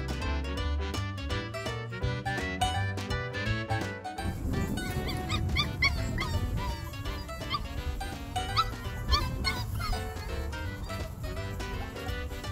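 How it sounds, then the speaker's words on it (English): Two dogs playing with a third dog, barking repeatedly with yips and whimpers, loud and close throughout. "These two dogs purposefully make their dog friend jealous."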